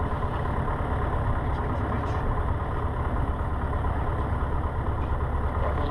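Cessna 150 piston engine running on the ground, a steady, loud, dense drone with no change in pitch throughout.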